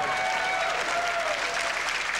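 Steady, dense applause from a large crowd at a professional 9-ball pool match, loud and continuous throughout.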